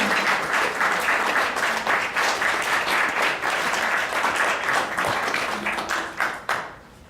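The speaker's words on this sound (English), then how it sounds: "Let's give a warm round of applause for Jacob King." Audience at a New York high school poetry contest awards ceremony applauding the winner, steady full clapping from a sizable crowd lasting several seconds before fading out.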